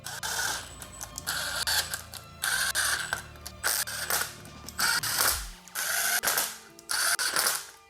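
A ratchet snugs the stator cover bolts on a Suzuki DRZ400 in a star pattern, with repeated bursts of fast, close ratcheting clicks separated by short pauses.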